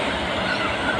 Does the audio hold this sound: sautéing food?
no